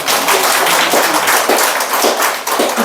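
A church congregation claps in loud, dense applause, many hands beating together close by in a sustained burst with no voices over it.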